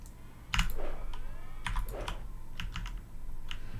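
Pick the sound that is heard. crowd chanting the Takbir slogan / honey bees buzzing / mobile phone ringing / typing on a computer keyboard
typing on a computer keyboard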